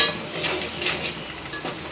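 Oil crackles and sizzles steadily in a hot pan as spices are tempered, with a few soft metallic scrapes of stirring.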